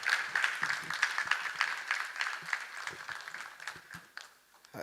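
Audience applause fills a play's auditorium, a dense, steady clatter of many hands that stays loud throughout and eases slightly toward the end.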